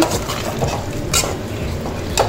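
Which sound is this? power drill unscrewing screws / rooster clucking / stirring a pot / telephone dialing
stirring a pot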